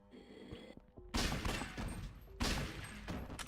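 Shotgun blasts in the video game Yakuza Dead Souls, two loud booming shots about a second apart, each followed by a dense rolling tail of gunfire noise over faint game music.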